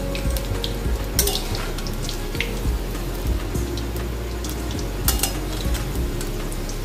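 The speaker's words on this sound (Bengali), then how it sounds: "এবার আমি বড়াগুলোকে এক এক করে উল্টে দিচ্ছি, তাতে সুন্দর মচমচে হবে, দুটো পিঠ ভালো করে ভাজা হবে।" Rohu fish roe fritters frying in a pan in a Bengali kitchen, a steady sizzle with scattered clicks and scrapes as the pieces are turned.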